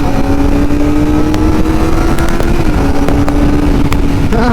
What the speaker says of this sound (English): I just love the sound of an inline 4. It screams.